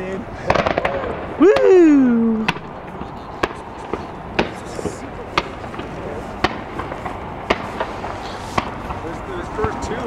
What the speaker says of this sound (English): Fireworks and fanfare, that's how we can breed it in.